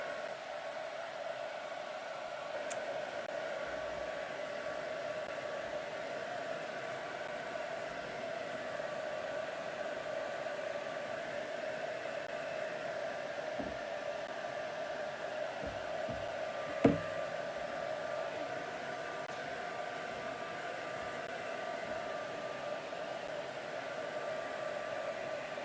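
Hair dryer blowing steadily on wet white and turquoise paint on a mixed media canvas, a constant near whirring hum for the whole stretch, with a faint knock or tap partway through.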